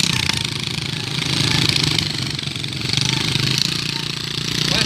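A truck loaded with sugarcane runs its engine with a steady, throbbing diesel chug that rises and falls slightly, close and continuous, with faint voices in the background.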